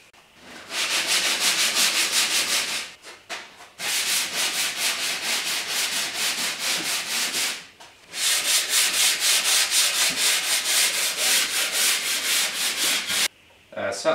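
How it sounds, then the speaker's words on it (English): Sanding the curved wooden panel of a folded horn speaker: three long bursts of steady, loud rhythmic back-and-forth scraping, separated by brief pauses, with no talking. "so I should just be able to sand it back and it should be all good"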